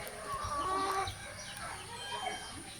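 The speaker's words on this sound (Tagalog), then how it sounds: "Pero ang broodcock nito, yung ating white leg na red wine na kulay kelso, 5 times." White-legged red kelso gamefowl broodcock clucking in a backyard, with a few close, drawn-out throaty calls over faint ambient noise.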